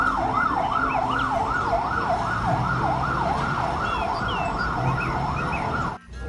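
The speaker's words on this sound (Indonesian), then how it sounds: "Wah, kita mendapatkan damkar pemadam kebakaran." A fire truck's loud wailing siren rises and falls rapidly and steadily over traffic rumble, then cuts out abruptly near the end.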